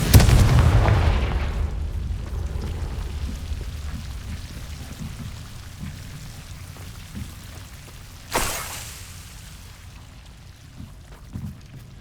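A Confringo blasting spell from Hogwarts Legacy on PS5 goes off with a loud opening boom and a rumbling decay. A second sharp burst follows near the end, and a fainter thump closes it.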